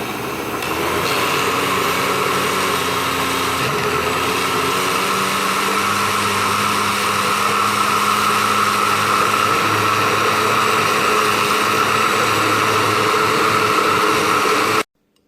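Kitchen blender running at high speed while making a smoothie, a loud steady whirring motor drone with a constant tone, lasting nearly the whole span before cutting off abruptly at the end.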